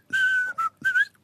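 Three short notes whistled between the lower front teeth, the first held longest, a clear, slightly airy tone whistled close up with no other sound.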